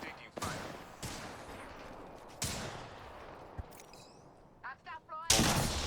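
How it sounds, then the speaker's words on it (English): Gunfire in the Apex Legends video game: several loud booming shots with long reverberant tails, separated by pauses, followed by short bursts and chirping game effects at close range. "I'm taking fire."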